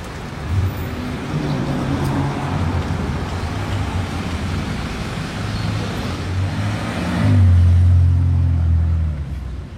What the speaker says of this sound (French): Je l'ai entendu arriver de loin la M5